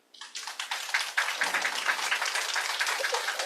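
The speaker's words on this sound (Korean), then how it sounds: "참부모님에게 박수 한번 올리시죠" Applause from a congregation at a Sunday worship lecture at a church, a dense patter of many hands clapping steadily and fairly softly after a brief quiet start, with no voices over it.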